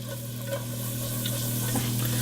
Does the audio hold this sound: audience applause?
no